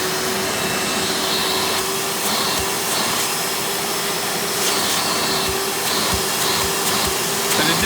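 Hoover Spirit U5067-930 upright vacuum cleaner, a direct air model, running with a loud, continuous rushing whoosh and a steady motor whine, a few faint knocks under it and no talking.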